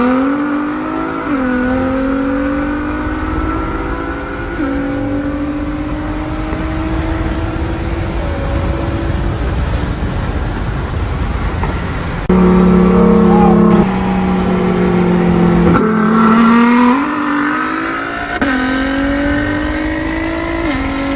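A big-turbo JDM tuner car and a muscle car roll racing, loud engines revving hard through rising gear pulls with sharp shifts, one car roaring close and then fading, sustained throughout.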